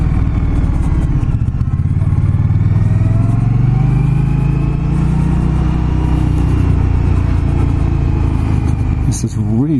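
An Indian Scout Bobber motorcycle engine rumbles steadily and loudly for the whole stretch, a deep close idle with a slight rise in revs partway through.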